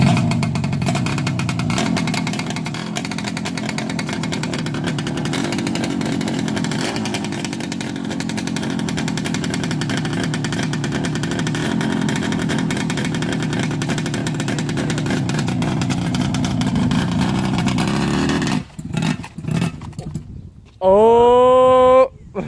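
A Suzuki GT250 motorcycle engine runs close by at a steady, buzzy idle for most of the clip, then stutters and blips briefly near the end, with a short rising tone at the finish.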